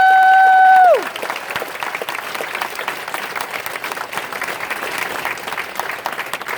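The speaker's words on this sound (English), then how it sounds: "one more round of applause for IBEW" After a brief electronic tone cuts off, a crowd at a campaign organizing meeting in an IBEW union hall in San Diego breaks into steady, moderately loud applause that continues evenly.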